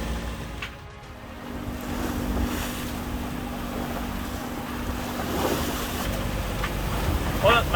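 A 30-foot sailboat crossing the Gulf Stream in four-foot waves, with a steady roar of wind and water washing against the hull, wind buffeting the microphone throughout.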